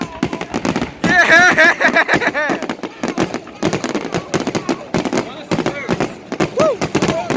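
Post-game fireworks show after a Kansas City Royals baseball game, with repeated booming bursts and crackles throughout, mixed with excited crowd voices and people talking and cheering nearby.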